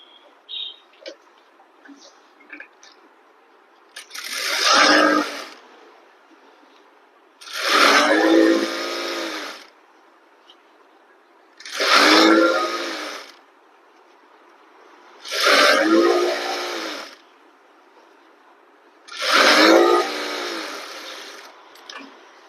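A sewing machine runs a line of stitching down the middle of elastic on a garara suit, in five separate bursts of about two seconds each, with near silence in between.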